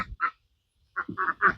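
Ducks quack in short bursts, one call, a pause, then a quick run of three or four loud nearby quacks.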